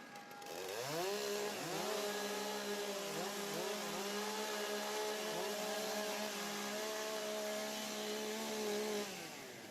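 Several chainsaws rev and idle together at a timbersports competition, warming up between disciplines; a loud, sustained, overlapping engine whine with rising and falling pitches runs throughout, no talking.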